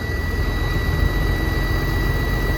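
A Ford L9000 truck's diesel engine runs with a slight miss, giving a constant heavy, rough drone close by with a faint steady whine on top and no talk.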